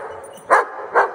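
Medium-sized dogs barking, two short, loud barks close by about half a second apart over a low background hum.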